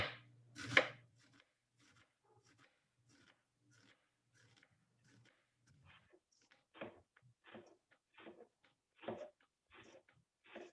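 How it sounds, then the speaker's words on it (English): A knife slicing an onion lengthwise into strands on a cutting board, a quiet series of crisp single cuts, sparse at first and then coming in a steadier rhythm. "So here, start there, cut straight down."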